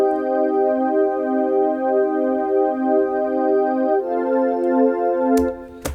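Ambient pad from Logic Pro's stock library, the "Awake from a Dream" patch, holds a loud, steady, space-filling chord with slow shimmering movement, shifting once midway and ending in a couple of sharp clicks; no speech.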